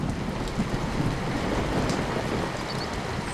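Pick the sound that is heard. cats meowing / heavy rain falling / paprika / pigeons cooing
heavy rain falling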